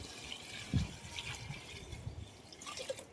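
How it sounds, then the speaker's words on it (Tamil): Water poured into a pot of chicken biryani as it cooks outdoors, a brief splashing fill with soft dripping and trickling, fairly quiet and close, with no talking. "தண்ணி ஆட் பண்ணிடலாம், கரெக்டான கண்டிஷன்ல இருக்கு"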